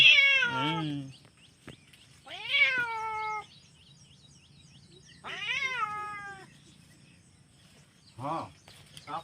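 Tomcat meowing outdoors near farm fields: four drawn-out, wavering meows spaced a few seconds apart, moderately close, with a quiet insect and bird background between calls.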